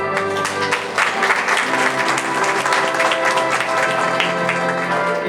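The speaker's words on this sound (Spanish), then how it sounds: "Fuerte los aplausos en esta mañana." Wedding guests in Cantel, Guatemala clapping loudly and continuously as a couple is introduced, a dense close crowd of hands with no talk over it.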